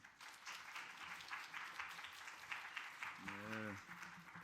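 Applause from a church congregation welcoming the senior pastor to the front, a steady wash of many hands clapping that fills the space, with a brief musical tone sounding near the end.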